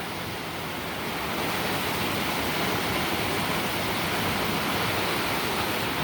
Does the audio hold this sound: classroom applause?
no